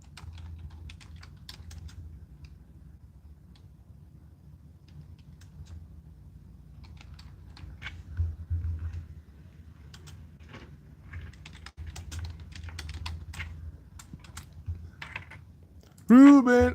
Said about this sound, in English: I'm typing a poll.